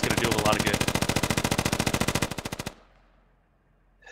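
Rapid automatic gunfire in the military shooter game Squad, a loud, fast, evenly spaced burst of shots lasting over two seconds, then stopping abruptly and leaving a fading echo and near silence.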